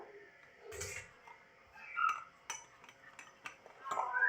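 A spoon clinks and scrapes against a cup while stirring yeast, baking powder and sugar into a spoonful of warm water, giving light irregular taps and rattles in a quiet kitchen.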